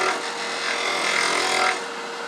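A wood lathe spins while a detail gouge cuts a small multi-axis pedestal birdhouse, giving a steady, close, hissing scrape that swells slightly midway and then eases off, with no voices.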